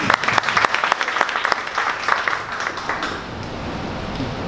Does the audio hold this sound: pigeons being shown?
no